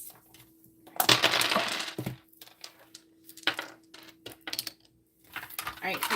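Dice rolled during a live psychic tarot reading session, a couple of sharp rattling clatters, close and fairly loud, with quieter clicks and a voice speaking in between.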